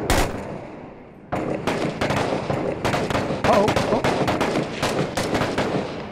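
Gunfire in the video game Six Days in Fallujah: after one opening shot and a brief lull, a dense run of loud rifle and machine-gun bursts rattles on steadily, close and echoing, without talk.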